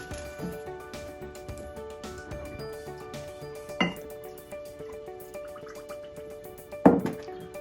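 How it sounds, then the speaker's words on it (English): Water pours from a pitcher into a mug in a few soft trickling, dripping bursts, with a brighter splash near the end, all faint beneath steady background music. "I'm going to pour some water into the mug of the picture like this."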